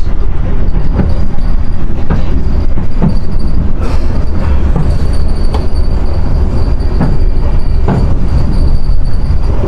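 Argo Sindo train rolling at speed past Brebes station, heard from inside the carriage as a loud continuous rumble with rhythmic wheel clacks and occasional squeals from the rails.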